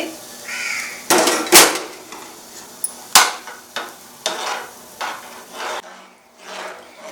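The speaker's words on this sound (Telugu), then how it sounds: "ఇప్పుడు సగ్గుబియ్యం వేసాక బాగా కలుపుకోండి" A spoon stirs sago and vermicelli payasam in a pot, giving irregular knocks and scrapes against the metal: about seven sharp clacks spaced unevenly, with soft rubbing in between. The sound is close, and no one speaks.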